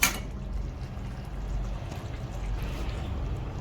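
A soft, continuous pour of buttermilk into a pot of cooked okra, a gentle splashing wash of sound with no talking.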